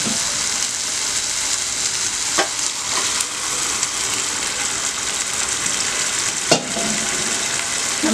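Chicken liver and gizzard pieces fry in a pan with a loud continuous sizzle, stirred now and then with a couple of distinct scraping knocks.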